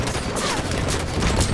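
Dense, rapid turret gunfire in Halo 5, a loud continuous barrage of shots with booming low end filling the whole short stretch, no voices.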